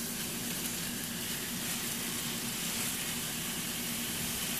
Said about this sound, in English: Now you're just going to brown these